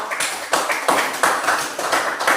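A seventh-grade class claps in unison for a student group, rhythmic bursts of hands about every third of a second, fairly loud and close, with no talk over it.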